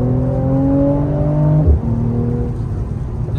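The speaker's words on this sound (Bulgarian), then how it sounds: "Не знам, този двигател е уникален." A fast car's powerful engine hums loud and close at steady revs, then briefly dips and thumps before settling back into a sustained, slightly lower drone, with no talking.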